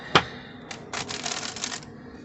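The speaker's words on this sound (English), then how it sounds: "let's get to shuffling" Tarot cards being shuffled give a sharp tap followed by a quick riffling flutter lasting about a second, close and moderately loud with no talk.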